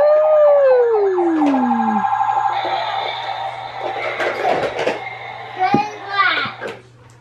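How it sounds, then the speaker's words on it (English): A toy police car's electronic siren wails and falls, then a warbling toy-like siren repeats while a small child chatters and squeals over it. "is that your police car?"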